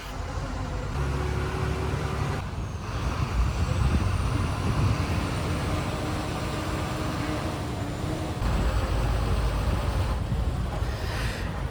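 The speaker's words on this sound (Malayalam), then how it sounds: "നമ്മൾ ഈ ഒരു ബസ് അടിവാരത്ത് എത്തി കേട്ടോ" A KSRTC bus on the Calicut to Sultan Bathery route rolls toward the foot of the Thamarassery ghat road in Wayanad, its engine a steady close rumble with road noise and wind throughout, dipping briefly twice.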